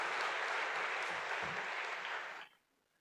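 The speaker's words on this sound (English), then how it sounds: "I think they deserve a big round of applause" An audience at a school event applauds children who have just danced, a full, even roar of clapping that holds steady, then cuts off abruptly near the end, leaving quiet room tone.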